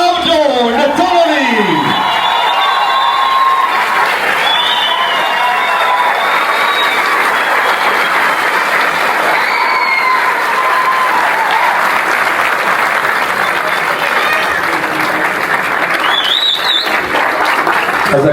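A theatre audience claps loudly and continuously in dense sustained applause, with a voice heard over it at the start and scattered whistles and whoops rising through the crowd.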